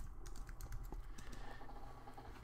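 Fingers type a page title on a computer keyboard in quick, irregular bursts of close, soft key clicks, with no talking.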